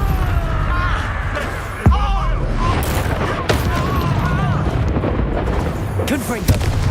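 Confringo fire-blast spell explosions in Hogwarts Legacy combat, several sharp booms and bursts layered under spoken spell incantations and game music, with punchy hits near 1.9 and 3.5 seconds.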